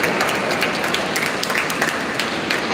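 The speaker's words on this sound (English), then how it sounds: "So a big round of applause to her. Let her listen to your claps in Jaipur." Audience applause at a school event in a hall, a steady dense wash of many hands clapping at once, loud and continuous with no voices over it.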